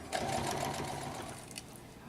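A sewing machine stitches a fabric UTV windscreen with straps and Velcro tabs, giving a steady rapid mechanical whir at moderate, close level throughout with no talking.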